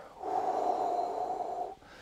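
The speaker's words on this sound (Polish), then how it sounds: "Trochę głębszy wdech i długi wydech." A deep, slow breath taken during a guided mindfulness breathing exercise: one inhale swelling into a long, steady exhale, close and fairly quiet, with no talking over it.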